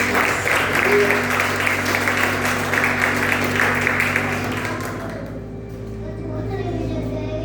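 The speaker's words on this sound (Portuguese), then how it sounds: "Dê uma salva de palmas para o Senhor Jesus." A church congregation applauds during a Holy Communion service, a steady wash of clapping that runs loud for about five seconds, then thins and fades with a faint voice underneath.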